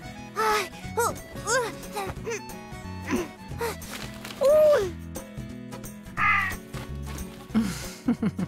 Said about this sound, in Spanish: ¡Qué suerte! Llegaron los cuervitos.